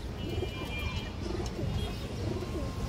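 Giribaz Sabji Noar pigeons cooing in a loft, a dense continuous burble of low coos close by with faint chirps over it.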